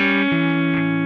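A short, sustained electric guitar lick, with a bent note sliding into a held tone, played with effects and light distortion, brief and alone.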